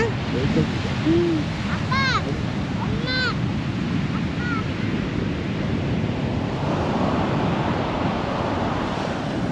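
Ocean waves wash steadily onto a windy beach in Nha Trang, where the strong surf pulls the water back out. The roar of the surf is continuous, and a few faint voices and high calls rise briefly above it.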